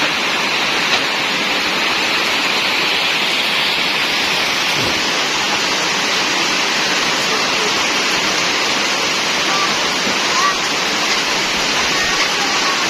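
Heavy rain pours steadily around a village house, a dense, even hiss of falling water that holds constant throughout with no other sounds standing out.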